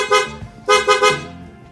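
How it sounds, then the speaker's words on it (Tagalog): An upgraded horn on a Honda Click 150i scooter blares close by in several short, loud toots with a bright multi-tone buzz, two of them coming in a quick pair. "So, naka-upgrade tayo ng horn yan."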